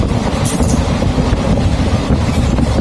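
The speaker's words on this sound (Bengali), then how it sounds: "ট্রেন ছুটছে তার নিজের গতিতে" A train runs along the rails with a steady, loud rumble, clickety-clack of the wheels and a faint squeal, heard from inside a carriage with no talking over it.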